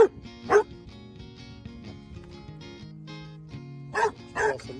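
Basset hound puppies bark at the neighbors outdoors, with a few short, sharp yips near the start and again near the end, spaced apart over quiet background music.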